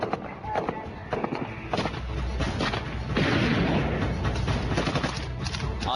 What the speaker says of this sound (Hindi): धड़ाधड़ गोलियां चल रही हैं।